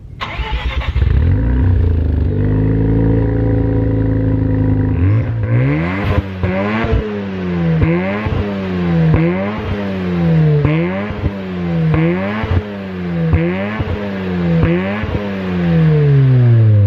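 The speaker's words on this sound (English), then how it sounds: "here we are in the RX7 going on the uphill of the Mazda Turnpike" A 1992 Mazda RX-7 rotary engine idles, then revs hard and pulls uphill on the Mazda Turnpike through repeated gear changes, rising and dropping in pitch as it accelerates, loud and close.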